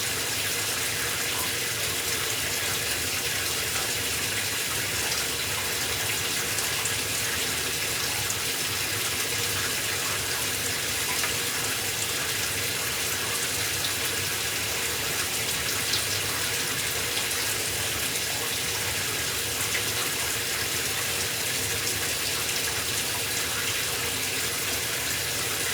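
Steady, even hiss of a rainforest shower running in an Airbnb bathroom, water falling continuously and fairly close for the whole stretch, with no talk over it.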